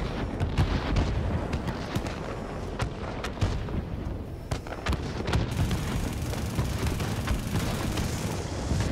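Rapid aircraft cannon fire from an American Lockheed F-94D Starfire jet in World of Warplanes, with about 3,000 rounds per minute, comes as a dense, loud, continuous rattle of bursts over engine roar, with no talk.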